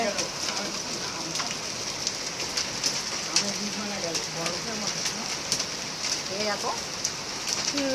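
Heavy rain pours steadily in Kolkata with scattered sharp taps of hailstones hitting surfaces, while a person talks intermittently over the downpour.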